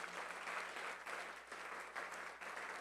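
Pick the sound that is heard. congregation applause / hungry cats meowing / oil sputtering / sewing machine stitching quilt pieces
congregation applause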